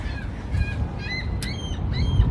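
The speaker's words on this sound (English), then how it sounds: "that seagull is really making a lot of noise" A seagull calls repeatedly in a Bronx neighborhood garden near Castle Hill Ave, its harsh, repeated cries standing out clearly against steady low outdoor background noise.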